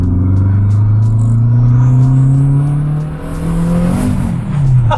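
Renault 5 Turbo 2 engine pulling hard under acceleration, a loud, close, continuous rumbling drone that rises steadily in pitch, dips briefly around a gear change, then climbs again.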